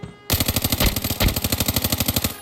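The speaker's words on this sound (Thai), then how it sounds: "เหมือนฝั่งเรด้าจะยิงกันนะครับผม" An AUG rifle fires a sustained automatic burst in the video game Arena Breakout, a loud, evenly spaced rapid chain of shots that starts abruptly and continues for about two seconds, close and alone.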